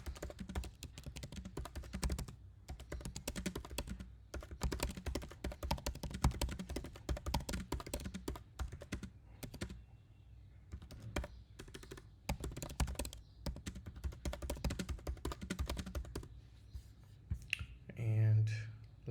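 Fast, steady typing clatters on a nearby computer keyboard in dense bursts with a few short pauses, and a soft thump comes near the end.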